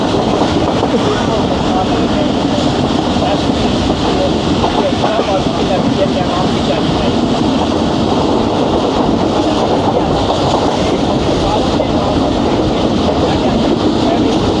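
The Jaffar Express rolls through Mankiala railway station, heard from aboard as a loud, continuous rumble and rattle of rail cars with rhythmic clatter, a voice talking faintly beneath the steady roar.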